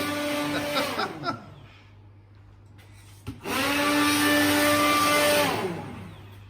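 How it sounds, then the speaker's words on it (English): A blender liquidising homegrown chillies for chilli sauce whirs loudly in two bursts, a short run that winds down, then after a pause a strong, steady whine that holds and fades out near the end. "Now we're liquidising."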